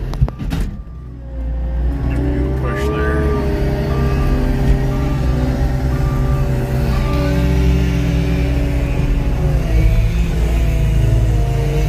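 A skid steer engine runs steadily at a constant drone while moving tree logs during treetop cleanup, loud and close with a brief clunk at the start and no talking.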